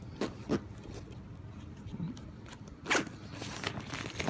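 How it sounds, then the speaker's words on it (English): An eBags TLS Weekender Motherload Convertible travel bag is zipped shut around its edge, giving quick raspy zipper pulls with small pauses between strokes, close and fairly quiet. "Ton of room, and it still zips up nicely"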